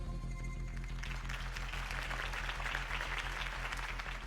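A crowd applauds steadily in the video game Batman: The Telltale Series, many hands clapping in a dense, sustained wash over a low musical bed, with no voices standing out.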